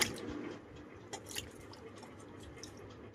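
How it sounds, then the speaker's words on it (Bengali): Fruit rinsed under running water, with soft drips, splashes and wet squishing close by at a quiet level. "তো আমি সর্বপ্রথম ধুয়ে নেব এটা"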